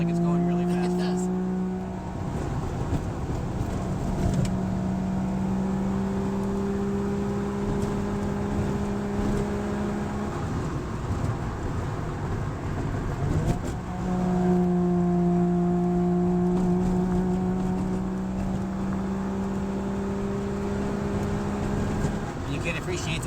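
A Saab 95 two-stroke car engine buzzes and revs upward twice in long rising pulls, droning loudly inside the cabin with a brief drop between.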